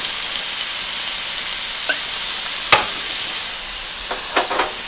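Chicken thighs fry in an oiled pan, giving a constant, even hiss of sizzling with a few sharper pops and crackles standing out near the end.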